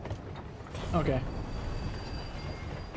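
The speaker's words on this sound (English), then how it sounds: "We have a train." Train in the video game Final Fantasy XIV, a rolling rail rumble with metallic squeals and rattles, heard under a person talking.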